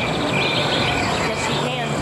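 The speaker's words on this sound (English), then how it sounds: "Oh, you can hear the crickets." Crickets chirp in an indoor haunted house attraction, a steady high-pitched trilling drone running throughout under a noisy, busy background.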